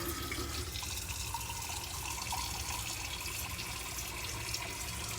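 Hot water at about 127 degrees running from the tap into an RV sink: a continuous, even gush and splash, close and steady throughout with no voices.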